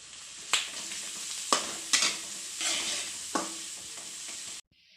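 Onions frying in a pan with turmeric for egg fried rice, a steady sizzle broken by several sharp stirring scrapes, close and fairly loud, then cutting off abruptly near the end.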